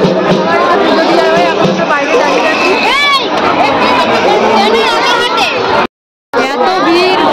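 A dense crowd at the Satbhai Kali temple during puja, loud overlapping chatter and shouts from many voices close around, with a child's high call rising briefly and a short dropout near the end.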